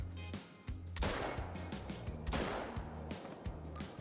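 Two sharp gunshots crack out about a second apart during a pheasant hunt in the New England mountains, each loud report followed by a rolling echo over a steady low hum.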